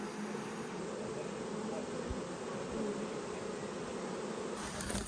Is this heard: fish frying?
no